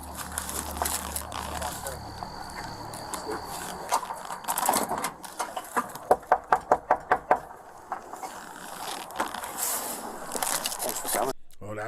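Police knocking hard on a house door, a burst of about seven sharp, evenly spaced raps in the middle, with rustling and scraping before and after.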